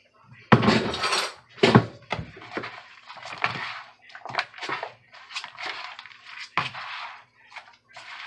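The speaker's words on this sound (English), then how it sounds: "So you're gonna mix this all together." Ingredients and cheese being mixed in a baking dish, irregular scraping and clinking of a utensil against the dish in short close bursts with quiet gaps.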